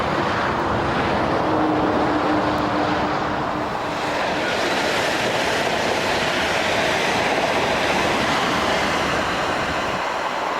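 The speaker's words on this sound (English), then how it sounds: "you've got the main line railway running from London Euston up to Glasgow, Birmingham, Manchester" A main line train on the London Euston line rumbles past loudly and steadily, a sustained roaring rush with faint rhythmic clatter from the rails, heard on its own.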